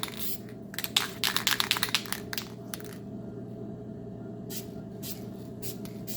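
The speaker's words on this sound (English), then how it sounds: "Definitely want to shoot a little test patterns and stuff first, especially out of a new can" A new can of flat black spray paint fires short test bursts, several sharp hissing sprays in the first half, a pause, then more brief bursts, over a steady low background hum.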